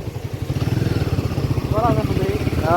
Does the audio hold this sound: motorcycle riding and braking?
yes